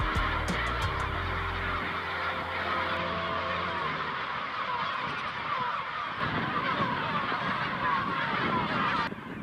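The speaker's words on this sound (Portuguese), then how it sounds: "Milhares de gaivotas procuram a área para procriar." Thousands of gulls call at a breeding colony in a bay near San Blas, Argentina, a dense, continuous wash of honking and squawking cries over a steady ambient roar, with no speech.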